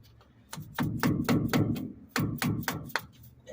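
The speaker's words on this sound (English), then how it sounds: "first I need to get this gasket off" Sharp knocks and taps on metal as a stuck gasket is worked off a Dana 60 axle housing, about a dozen close, loud strikes in two quick bursts with a brief pause between.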